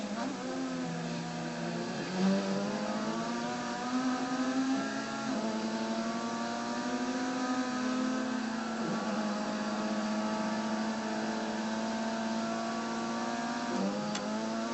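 Race car engines from a racing video game on a track with a corkscrew, a steady high-pitched engine drone rising and falling in pitch as the cars accelerate and brake through corners, close and continuous.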